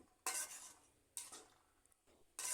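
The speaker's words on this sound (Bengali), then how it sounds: "মাছের মাথার সাথে ভালো করে মসুর ডাল আবার লাড়িয়ে চাড়িয়ে দিচ্ছি" A spoon stirs masoor dal together with fried fish heads in a pot, scraping in three separate broad bursts with quiet gaps between, close and fairly soft, no talking.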